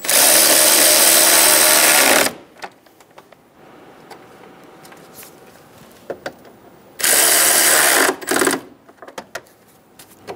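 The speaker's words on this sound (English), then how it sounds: "Install the bolts on either side of the fan assembly. Get them started by hand and snug them down." A power ratchet tightens the bolts on the radiator cooling fan assembly of a 2011-2014 Hyundai Sonata, giving two loud, sustained mechanical whirring bursts separated by a quiet stretch of small clicks and clinks.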